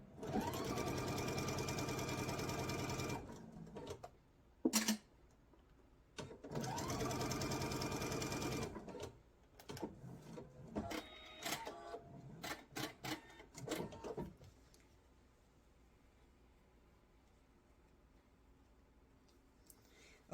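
Sewing machine stitching a quarter-inch seam on quilt fabric, two steady bursts of rapid mechanical whirring separated by short pauses, then scattered clicks and brief stitching stops before near quiet, close and clear with no talking.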